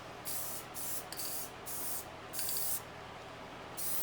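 Spray paint hisses in a series of short bursts as a light first coat goes onto a piece of furniture, with brief pauses between passes over a steady background hum.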